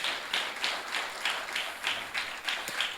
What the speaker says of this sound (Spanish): Dele un aplauso a ese Dios que usted tiene.